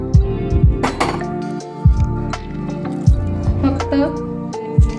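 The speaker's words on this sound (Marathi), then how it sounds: "गरजेनुसार मी हे उकळतं पाणी जे आहे ते घालून घेत आहे।" Boiling water is added little by little to rice flour batter for soft rice papad, giving repeated wet drips and squishy splashes against a low voice.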